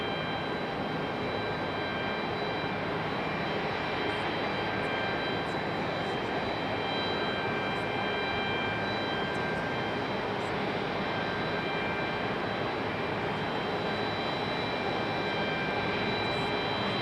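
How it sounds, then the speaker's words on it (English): A Boeing 757 airliner arriving from Atlanta at Raleigh-Durham airport gives a steady, continuous jet roar that holds at an even level throughout, with no talk over it. "Boeing 757, this one coming in from Atlanta."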